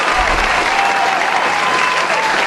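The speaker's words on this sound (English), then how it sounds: "Place audience clapping and cheering here." Audience clapping and cheering from a victory celebration in the video game Genshin Impact, a loud, steady wash of applause from a dense crowd lasting throughout with no pauses.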